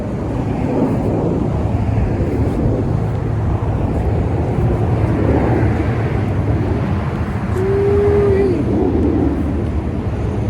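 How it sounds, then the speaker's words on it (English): Traffic roars past on a main highway outdoors, a loud, steady broadband rumble with wind buffeting the microphone, passing vehicles swelling and fading, and a brief tonal whine partway through. "forgive me for the noise. We're out here on the main highway."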